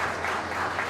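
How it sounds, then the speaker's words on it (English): Applause from an audience at a Thanksgiving cocktail event, a dense, steady burst of many hands clapping at close range, brief and fairly loud throughout. "Clap for them."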